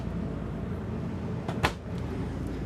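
A kitchen cabinet door on a 2024 Renegade Valencia 38BB motorhome opens with one brief click and soft knock against a steady low background hum.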